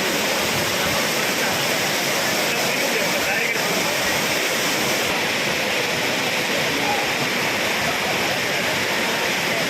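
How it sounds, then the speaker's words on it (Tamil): Water pours forcefully over the main falls at Courtallam, a dense, steady roar of rushing and splashing water heard close up and loud throughout, with no pauses. "தண்ணி மெயின் ஃபால்ஸில் நல்ல ஃபோர்ஸாக வந்துட்டுருக்கு"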